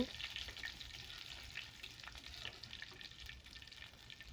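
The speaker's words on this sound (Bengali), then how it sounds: "এখন রসুনটাকে আমি একটু ব্রাউন কালার করে ভেজে নিব।" Chopped garlic, four or five cloves, frying in oil until brown for egg noodles, giving a steady soft sizzle with light crackle and faint stirring throughout, fairly quiet and with no talk.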